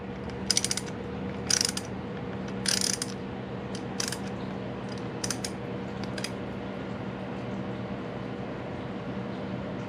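Oil cap bolts being removed on a Honda Monkey motorcycle, with a few short ratcheting clicks and metallic turning sounds near the start over a steady low mechanical hum.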